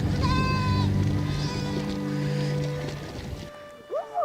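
A flock of sheep bleats while crossing a river in Ladakh. Several loud, close bleats overlap at first, fade to quieter calls, and end with a few short faint bleats.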